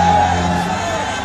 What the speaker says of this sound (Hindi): बड़ी संख्या में लोग पहुंचे थे कमलनाथ की जनसभा के दौरान